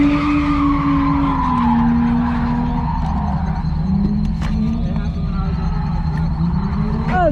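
A convertible drifting at a showtime event, heard from inside with a loud steady engine roar and long rising-and-falling tire squeal tones throughout, with a brief voice near the end.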